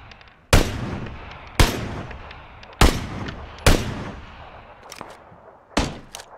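Several sharp, loud gunshots crack in a shooter video game, spaced out at irregular intervals about a second apart. Each shot is followed by a short echoing tail, and a couple of fainter shots come in between.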